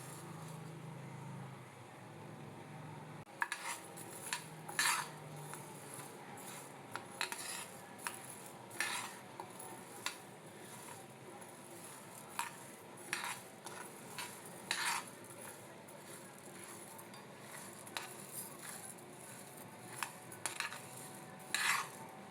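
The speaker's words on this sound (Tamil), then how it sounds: "இந்த பேனில் நம்ம இதை நல்லா வந்து வாசனை வர அளவுக்கு கொஞ்சம் கலர் மாறுற அளவுக்கு நம்ம ஃப்ரை பண்ணி எடுத்துக்க போகிறோம்" Urad dal is dry-roasted in a pan, a faint background hiss under repeated sharp clinks and scrapes of a spoon stirring against the metal, spaced every second or two over a long stretch.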